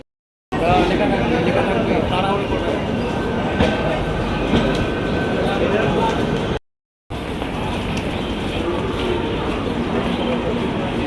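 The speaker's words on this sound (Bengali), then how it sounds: "এই যে দেখুন ট্রেন ঢুকে গেছে" A train arriving at a station rumbles loudly and continuously with rattling wheels and clatter, broken by a brief silent gap, while people talk amid the noise.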